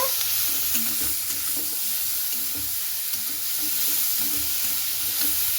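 Cauliflower and grated carrot frying in a pan, a steady bright sizzle throughout with soft scraping stirs repeating at an even pace, close and continuous.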